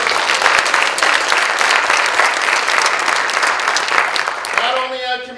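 A theatre audience at a performance of The Complete Works of William Shakespeare (abridged) gives a steady, full round of applause that holds for several seconds, then tapers off as a voice begins to speak.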